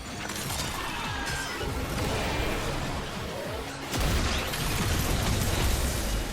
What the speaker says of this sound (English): They are exploding, that's why.